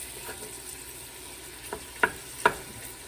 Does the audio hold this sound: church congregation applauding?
no